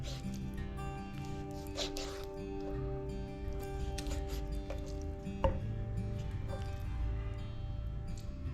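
Knife slicing through chicken meat on a cutting board, with soft close cuts and taps at an irregular pace over a steady low background hum.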